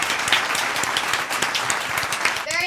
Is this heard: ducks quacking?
no